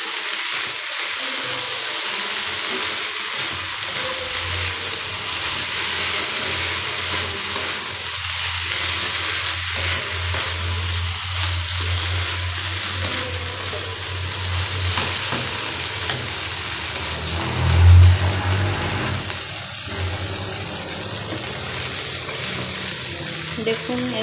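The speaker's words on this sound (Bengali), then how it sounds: "ঘি দিয়ে এটাকে আমি একটু নাড়িয়ে" Banana flower ghonto fries in ghee while being stirred, a close steady sizzle with scraping stir strokes and a brief heavier clatter partway through.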